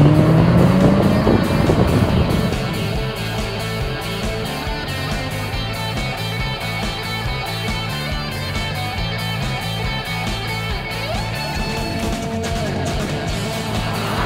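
A 2007 Honda Fit RS with the 120 hp L15A engine accelerating hard in a quarter-mile drag run, its engine note climbing through the gears under steady wind rush, loud and close throughout.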